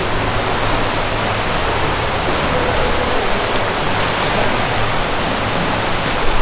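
A river flows by a footbridge on a winter hike, a loud, constant rushing roar with a low hum, no voices.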